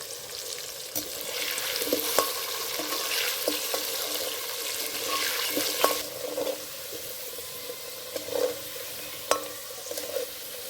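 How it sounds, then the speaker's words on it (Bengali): Potatoes with a little turmeric fry in a pan, for a jackfruit dish cooked in goat fat: a moderate, steady sizzle with occasional clinks and scrapes from stirring. "আলুগুলো ভালো করে ভেজে নিয়েছি"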